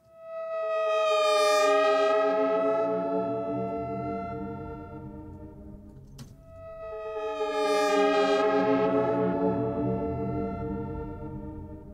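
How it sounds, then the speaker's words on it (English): An atmospheric pad run through a Soundtoys Crystallizer reverse effect rises in two long swelling waves of dense, shimmering tones, each building slowly and fading, with a brief click between them. "So I could apply this crystallizer to this atmosphere."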